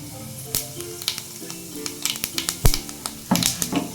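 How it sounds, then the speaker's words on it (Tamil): Fennel seeds hit hot oil in a home kitchen for egg curry, crackling in close, sharp pops and bursts that come irregularly over a faint sizzle. "எண்ணெய் சூடாகிடுச்சு, சோம்பு போட்டுக்கலாம்."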